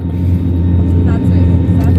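Inside the cabin of an IndiGo airliner taxiing toward the runway at Mumbai, a steady, loud, low engine rumble drones on without a break.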